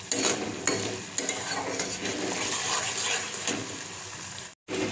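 Slit green chillies sizzle in hot oil in a pan for a fish-head mixed dal, a dense steady frying hiss broken by sharp clicks of a spatula stirring against the metal, close and continuous before a brief cutoff.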